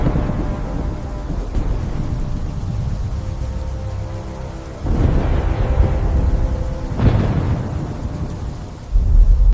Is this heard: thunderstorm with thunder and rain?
yes